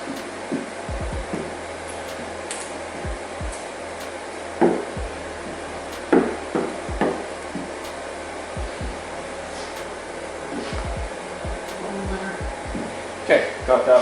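A heat gun blows a steady whirring hiss of hot air over Arlon print wrap film laid on a surface, running throughout with scattered knocks and handling clatter, while a person talks intermittently.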